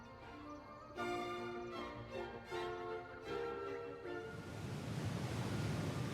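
In an anime episode, a soundtrack of music gives way to a steady, rising roar of rushing water like a waterfall or breaking surf, which fills the last couple of seconds on its own.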